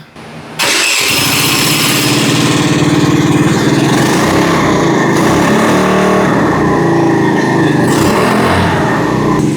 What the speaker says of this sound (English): I'm gonna do a little test drive around here